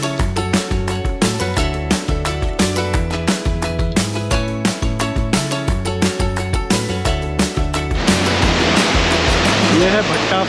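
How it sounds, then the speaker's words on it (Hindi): Water pours over the top of Bhatta Falls near Mussoorie, a steady broadband rushing that emerges clearly only in the last few seconds after loud rhythmic music with heavy beats. "ये अब हम पहुँच गए हैं भट्टा फॉल्स के टॉप में, जहाँ से पानी नीचे आ रहा है।"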